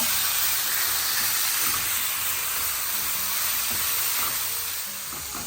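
Ground meat browns in a pan with a continuous, loud, hissing sizzle, faint scrapes of stirring audible beneath it, easing slightly toward the end; no voices.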